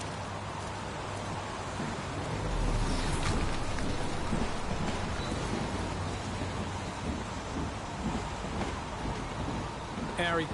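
Steady heavy rain pours across a stormy scene in the Heavy Rain video game, with a low rumble of thunder swelling early on, continuous and fairly quiet throughout.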